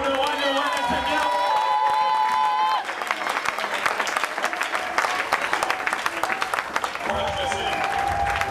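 A church congregation breaks into loud, sustained applause and cheering, with voices shouting over the clapping and music playing at the start.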